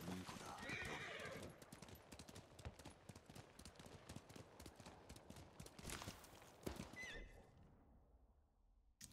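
In Ghost of Tsushima, a horse's hooves clip-clop in a steady rapid rhythm with a whinny near the start, faint in the mix with voices talking over it, before the sound cuts off at the end.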